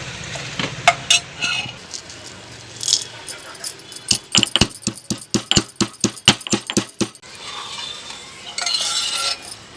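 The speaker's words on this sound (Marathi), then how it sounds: "आता आपली खीर उकळीपर्यंत आपण विलायची फुटून घेऊ" Cardamom pods pounded in a mortar for a kheer of rice and khoa: a quick burst of sharp, evenly spaced knocks in the middle, with scraping and softer kitchen clatter before and after, and a voice talking at times.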